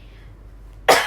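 A single loud, sharp cough bursts out near the end after a quiet stretch, close to the microphone.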